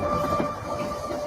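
Rumbling train locomotive from the video game Void Train, a steady broadband roar with sustained tonal hum running continuously at close, even loudness throughout.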